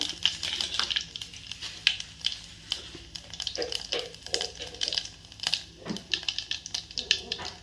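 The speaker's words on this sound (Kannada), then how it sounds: "ಇದು ಸಾಸಿವೆ ಚಟ್ಪಟ್ಟಂದು ಗಪ್ಪಾಗಿಂದ ಜೀರಿಗೆ ಹಾಕೋತೀನಿ ಒಂದು ಸ್ವಲ್ಪ" Mustard seeds and cumin splutter and crackle in hot oil for a spinach dal tempering, scattered sharp pops and stirring scrapes close by, with a voice talking faintly underneath.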